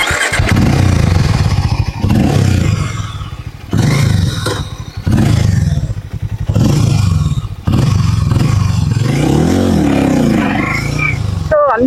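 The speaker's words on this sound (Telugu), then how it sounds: "సో ఇంకా ఈ బండి ఎలా పరిగెత్తుతుంది, ఎన్ని గుర్రాలలాగా పరిగెత్తుతుందో చూద్దాం పదండి" Harley-Davidson X440 motorcycle being ridden, its loud engine roaring close up and rising and falling in repeated surges as it accelerates through the gears, with brief drops between pulls.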